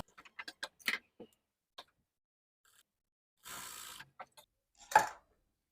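Sewing machine stitching old saree fabric: short bursts of quick mechanical ticking and clicking separated by pauses, with one longer whirring run, close and fairly quiet.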